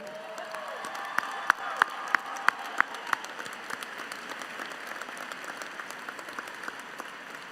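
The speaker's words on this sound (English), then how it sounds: "Can I get a round of applause for all the moms in the house tonight?" A round of applause for the mothers in the crowd at a college commencement ceremony, with scattered, fairly soft clapping that rises briefly with a few sharp claps and then stays as a low, steady patter from a distant audience.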